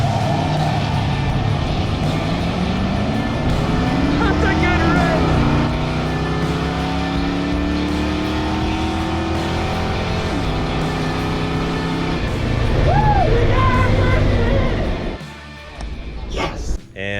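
Race car number 42, a cobbled-together drag car, rumbles loud and close as it is driven back into a shop, engine pitch rising and falling, with the idle dropping off near the end.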